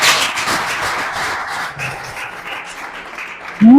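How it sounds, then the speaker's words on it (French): Church congregation applauding in a sustained wash of clapping that holds steady for several seconds, then a voice breaks in loudly right at the end. "Acclame pour le Seigneur."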